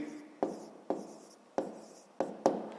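Pen or pencil strokes on paper as an answer to a fifth-grade maths exercise is written out by hand, six quick scratchy taps in an even rhythm, close and quiet.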